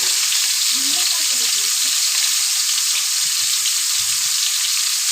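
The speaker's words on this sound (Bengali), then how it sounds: "এখন আমি পুরো যতগুলো আম কেটে নিয়েছি সব এর মধ্যে দিয়ে দেবো" Cut mango pieces fry in hot oil with panch phoron and dried chilli for a mango pickle, a steady loud sizzle throughout with faint stirring noises.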